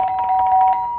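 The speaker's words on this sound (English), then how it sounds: "The bell. There's someone at the door." A doorbell rings with a single sustained electronic chime, loud and near, fading out over about a second with no talk over it.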